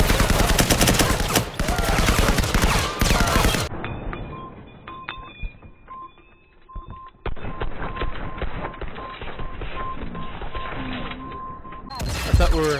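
Rapid gunfire in a first-person shooter video game, loud dense bursts at the start and end around a quieter stretch of scattered shots and electronic game beeps.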